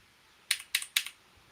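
Three quick bursts of computer keyboard typing, close and fairly quiet, each a short cluster of clicky keystrokes over a low background hiss.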